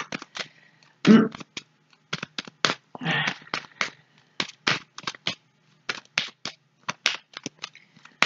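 Tarot cards shuffled for a reading, a run of crisp separate card flicks and soft slaps in an irregular rhythm, close and fairly quiet with no talking.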